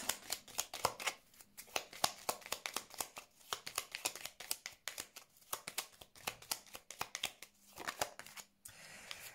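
Tarot cards being shuffled, a rapid run of crisp riffling slaps and flutters repeating close by and fairly loud for several seconds, with no talking.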